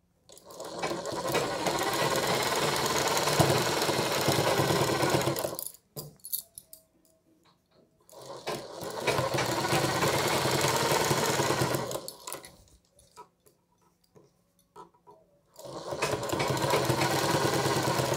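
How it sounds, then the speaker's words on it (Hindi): A sewing machine stitches a strip over the collar of a choli-cut blouse in three close, loud bursts of fast mechanical whirring, separated by brief pauses with soft handling clicks and no talk. "इस पट्टी को इस कॉलर के ऊपर से सिलते हुए जाना है"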